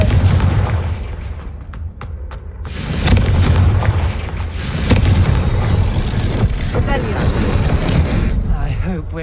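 The Confringo explosion spell from the video game Hogwarts Legacy goes off in loud, rumbling booms with dense crackling blasts that fill the whole stretch, while a voice speaks over the din.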